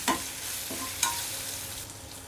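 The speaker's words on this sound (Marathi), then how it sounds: "1 चम्मच चटणी घालायची आहे, लाल तिखट। परत त्याला असं मिक्स करून घ्यायचं।" Black chickpea masala being mixed in a pan with red chilli powder and chutney added, giving a few soft scraping stirs over a faint background sizzle.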